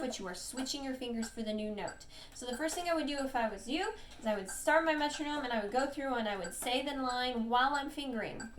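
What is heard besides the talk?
No everyday noise stands out behind the speech.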